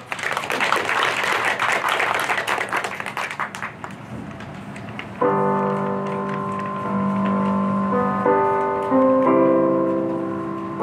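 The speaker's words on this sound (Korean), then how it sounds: "여러분 큰 박수 부탁드립니다." Audience applause at a Korean history talk concert fills the first few seconds with dense clapping, then fades as a sustained musical accompaniment begins.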